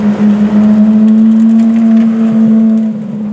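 A Ferrari F430 Challenge race car cruising on a public street, its engine holding a loud, steady, buzzy drone with strong harmonics and only slight pitch changes, close up with no talking.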